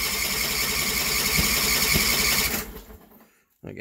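A cold Sears Suburban loader with a Briggs 20HP V-twin cranks steadily and loudly, its engine roughly beginning to fire, then the noise drops off abruptly into near silence before a brief burst returns.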